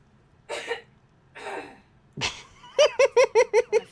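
A throat being cleared close to a microphone: three rough, breathy bursts spaced about a second apart, then a quick run of even, voiced pulses that sound like a short laugh.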